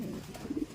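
A racing pigeon coos softly in a few short, low, throaty pulses, faint and close over a muffled background.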